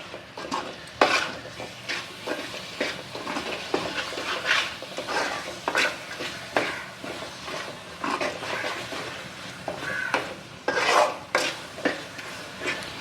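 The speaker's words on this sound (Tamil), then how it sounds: "தேங்காய் சோம்பு எல்லாமே இப்போது இதில் போட்டுக்கலாம் இதை வந்துட்டு இன்னும் ரெண்டு நிமிஷம் நல்லா எண்ணெயிலே கொஞ்சம் வதங்கட்டும்" Ground coconut and fennel masala sautés in oil for a prawn and chow chow curry, with repeated close scraping and stirring strokes of a spoon against the pan over a soft sizzle.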